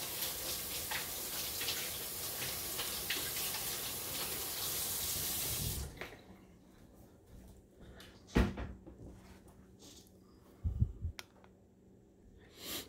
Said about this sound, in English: give me just a second to rinse my hands off